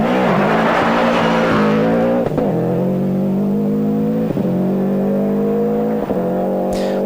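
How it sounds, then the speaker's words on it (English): A four-wheel drive rally car accelerates hard away from the start of a special stage on the Brekfa stage. The engine revs rise and then drop back sharply through several gear changes, close and loud, with no voices. "Four-wheel drive traction proving vitally important away from the line"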